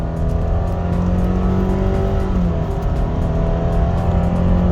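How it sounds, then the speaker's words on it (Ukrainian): A 2017 Subaru Impreza 2.0 automatic pulls hard and steady from a standstill uphill to 100 km/h, its engine drone rising in pitch as it accelerates, loud and close with road noise underneath. "Стартуємо від нуля до сотні, рухаємося ми в горку."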